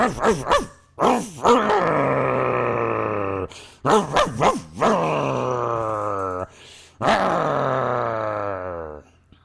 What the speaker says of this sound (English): Then came a really big dog that had way too many Starbucks lattes.